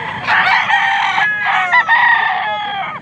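A rooster at a poultry sale in Pampanga crows loudly and close by, one long drawn-out call followed by a second strained crow, with a faint murmur of voices beneath.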